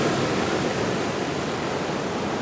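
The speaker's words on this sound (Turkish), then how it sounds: "Şu anda denizdeki dalgaları görüyorsunuz sayın seyirciler." Sea waves washing onto Ömerağzı beach in Zonguldak, a steady, loud broadband surf roar that fills the whole stretch without pause or voices.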